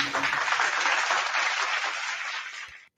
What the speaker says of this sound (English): I want to give you a last round of applause.